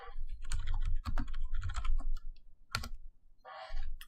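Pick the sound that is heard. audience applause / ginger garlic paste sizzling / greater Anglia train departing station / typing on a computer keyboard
typing on a computer keyboard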